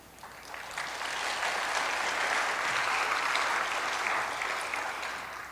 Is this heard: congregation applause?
yes